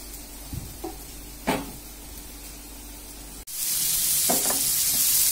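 Taro root sautéing in a pan, a steady hiss of frying with a few soft clatters of stirring early on, then a louder, brighter sizzle swelling after a sharp break midway.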